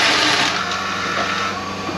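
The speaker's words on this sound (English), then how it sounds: "So obviously we started the dryer up" A corn grain dryer runs during harvest in Canada, a dense steady mechanical whir and hum with a bright hissing airflow, loud and close, without talk.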